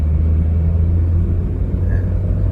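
Manual Toyota Yaris 1.2 fitted with a swapped 1NZ engine, pulling in third gear around 2,000 rpm, as a loud, steady low engine rumble heard from inside the car, with no talking.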